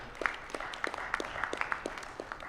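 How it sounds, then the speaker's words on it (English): Shareholders clapping at a company's annual general meeting, sparse distinct handclaps in a loose rhythm, fairly quiet and brief. "I think we should clap for them."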